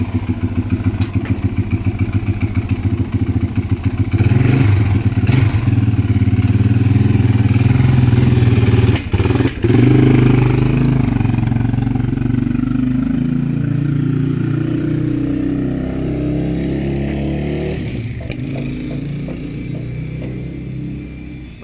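A fuel-injected Yamaha XT350 motorcycle fitted with a YZF 450 front end runs on its first ride, loud and close, with a steady engine drone, some throttle swells and clattering thumps, easing off toward the end.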